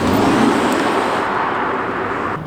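A Tesla Model 3 Performance with about 85,000 miles pulls hard, producing a loud, continuous broadband road and motor rush that holds steady and then eases slightly, with no talking.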